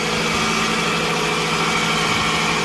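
A Toyota engine idling with its alternator belt slipped off, so the alternator is not charging; a loud, steady, close drone with constant low rumble and vibration, no talking.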